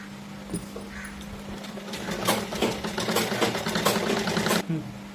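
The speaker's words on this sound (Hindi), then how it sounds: "कॉलर को इस तरीके बिछा के और ये सिलाई लगा ली है" A sewing machine runs steadily, stitching a collar over buckram on a side-pleated kurti, its motor whirring at moderate volume with a faint hum throughout.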